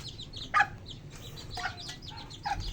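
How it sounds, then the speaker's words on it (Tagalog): Several chickens, including bantams, cluck nearby in short, scattered bursts, with one louder squawk standing out against a low background murmur. "Dito sa likod namin, marami kaming alagang manok."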